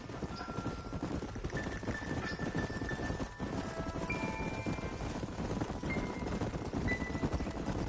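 Steady hoofbeats of a horse in the video game Red Dead Redemption (2010) clip-clop along at a trot, with a constant outdoor rumble and occasional faint tones drifting in the background.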